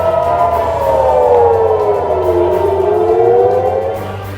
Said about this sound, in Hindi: सायरनों की आवाज गूंज रही है।